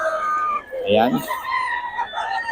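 A rooster crows once at a busy poultry market on Lazaro Street in Bulacan, rising and falling over a steady hum of crowd noise, with someone talking nearby.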